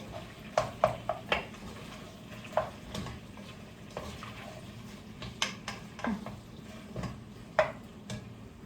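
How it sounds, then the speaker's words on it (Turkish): Onions frying in a pan with carrots and garlic while cooking Uzbek pilaf, with scattered stirring clicks and utensil taps over a low, steady sizzle, close and fairly quiet. "Hemen soğanı atıyorum, soğanı kavuruyorum."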